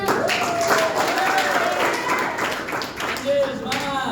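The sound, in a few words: classroom applause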